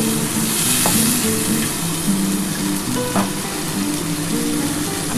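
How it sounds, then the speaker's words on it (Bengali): Spice paste fries in a pan with a splash of water for a Bengali chana dal dhoka curry, making a steady close sizzle with occasional light scrapes of stirring throughout. "মশলাটা ভালো করে কিন্তু কষিয়ে নিতে হবে।"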